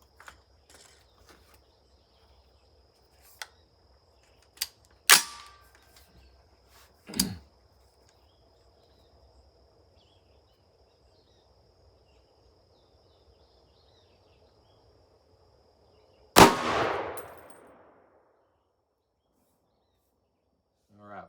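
A single loud .300 Blackout rifle shot firing a Nosler 110gr ballistic tip bullet into a gel block rings out outdoors, with a sharp crack and trailing echo, amid a few fainter clicks and knocks.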